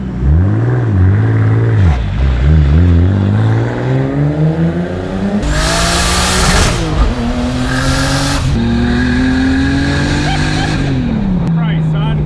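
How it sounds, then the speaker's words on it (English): A turbocharged 2JZ-swapped six-speed Mercedes convertible accelerates hard, its engine revving up loud and close through several gears with tire squeal, while excited voices shout over it. "This big old turbo and six speeds, let's go."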